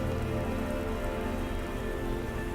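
Steady rain falls on a surface in the video game Fallout London, a dense continuous patter with no speech.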